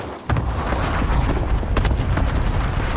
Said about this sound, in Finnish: Se ammustelu kuuluu sieltä.